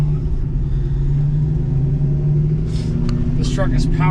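A freshly frame-off restored 1972 Chevrolet C10 resto-mod pickup with a Gen 4 4.8-liter Vortec V8 and 4L90 automatic transmission idles with a steady, deep, close-up rumble, and a few brief voice sounds come in near the end.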